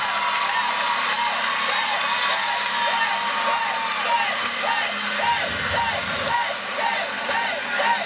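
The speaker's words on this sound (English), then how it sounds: "The crowd is yelling a 10, and I think she actually might get it." A crowd at a North Carolina vs Clemson women's college gymnastics meet yells and cheers after a stuck landing, a sustained roar of voices under a commentator talking.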